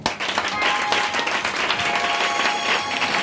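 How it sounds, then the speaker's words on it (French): A church congregation at a worship service breaks into loud, sustained applause and cheering, a dense continuous wash of clapping and voices filling the room from start to finish. "Est-ce que tu peux l'acclamer encore?"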